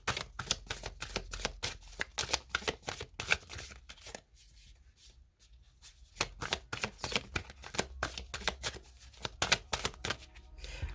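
Tarot cards being shuffled by hand, close and crisp, a rapid riffling patter that pauses for about two seconds midway, then carries on in quick bursts.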